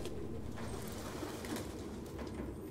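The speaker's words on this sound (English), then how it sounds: "What's up with these damn pigeons?" Pigeons cooing inside an old barn in Detroit: Become Human, soft repeated coos over a steady ambient hum with faint flutters, no one speaking.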